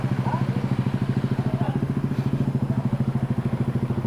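Motorcycle engine with an open-pipe exhaust idling close by at an emissions testing stop, a loud rapid popping pulse with a steady even rhythm, no voices over it.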